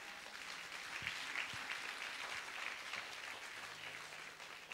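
A church congregation applauds, steady clapping from many hands spread through the space at moderate distance, continuing evenly throughout without speech.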